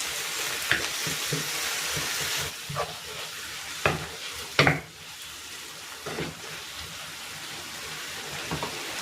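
Tomatoes sizzle and fry in a pan for ginisang alamang with pork, a steady sizzle up close broken by the sharp scrapes and clacks of a spatula stirring.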